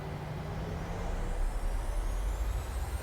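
Jet engines of a PMDG 737-600 in a flight simulator spool up for takeoff from Paris CDG, a steady rising whine over a broad rushing roar, continuous and fairly loud with no talk.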